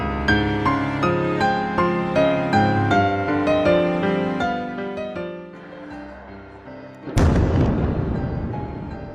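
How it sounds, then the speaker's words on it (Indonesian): An Israeli missile strike hits a building-lined area of Beirut, Lebanon: a sudden loud explosion with a sharp onset and a long rumbling decay, preceded by several seconds of melodic background music. "terlihat rudal tersebut meledak di sebuah wilayah yang dikelilingi sejumlah gedung"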